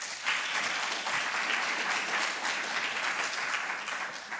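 A room applauding a council member at a business plan competition finals, dense, even clapping from a sizeable audience that holds steady at a fairly loud level for the whole stretch.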